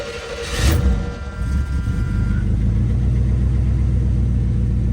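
A 1977 or 1978 Cadillac Brougham Landau engine cranks with a short burst, then catches and settles into a steady, loud low rumble that continues to the end, close by.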